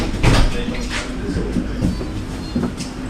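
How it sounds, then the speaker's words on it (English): A train stands at the end-of-line platform of a Zurich line in wet weather, giving a low steady hum with faint clunks and knocks of doors or carriage fittings nearby. "So there's what a train looks like before everybody gets back on."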